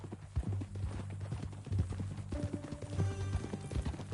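Horse hooves clip-clop steadily at walking pace in the game Red Dead Redemption 2, close and fairly loud, with low engine-like tones and a musical hum underneath, plus a short burst of talk.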